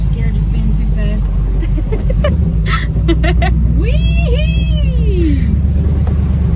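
A 1969 Camaro rumbles steadily as it drives and spins slowly around a parking lot, a loud low engine drone heard from inside the car with a rising and falling pitch and people talking over it.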